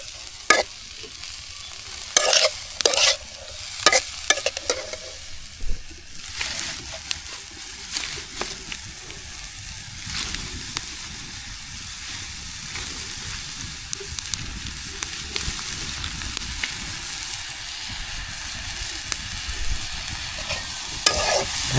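Banana flower fries in a pan in a village kitchen, with a soft continuous sizzle beneath repeated sharp scraping clacks of a spatula stirring, clustered early and then sparser.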